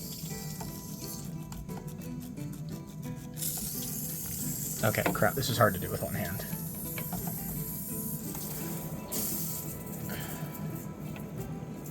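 A new reverse osmosis unit for an aquarium flushes water through its open flush valve, a steady hissing rush with a stronger splashing burst midway while a person talks over it.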